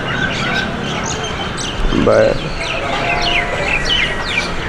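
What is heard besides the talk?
ducks at Honolulu Zoo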